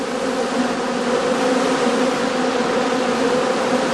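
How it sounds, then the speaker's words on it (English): Honey bees flying around straw skeps on a sunny October day, a steady close buzzing drone that holds evenly from start to finish. "bees can still be seen flying before they cluster together for the cold winter months"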